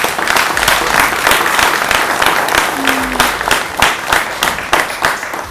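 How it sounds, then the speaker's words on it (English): Audience applause at a celebration night for an SME development and mentorship programme, loud close clapping from a large group, dense and sustained with individual sharp claps standing out, plus a faint brief tone partway through. "Give yourself a round of applause."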